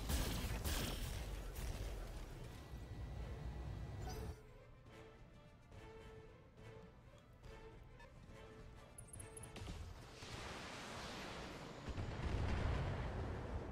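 Mech weapons firing in the tactical game Battletech: heavy booming blasts and rumbling impacts at the start, a quieter stretch of mechanical tones and whirring, then another swell of explosive rumble near the end.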